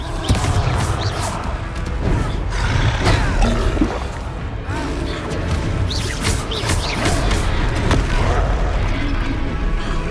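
Confringo blasting spells striking a troll in Hogsmeade in Hogwarts Legacy, a dense, loud barrage of booms, crashes and impacts layered over rumbling game effects without pause.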